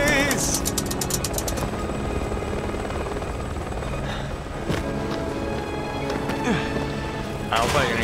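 A helicopter in the video game Resident Evil 6 roars with steady rotor thumping throughout, loud and close, mixed with game sound effects and bursts of music.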